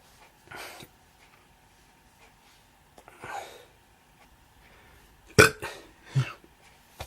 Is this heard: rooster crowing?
no